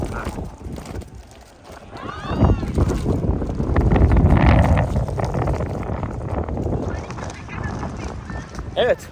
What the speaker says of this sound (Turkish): Bayağı rüzgar var ya.